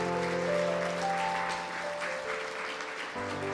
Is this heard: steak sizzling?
no